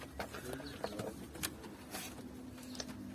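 Pigeons in a coop, including crested and spotted birds, cooing and calling softly in a steady murmur at moderate distance, with faint scattered shuffles and no clear talk.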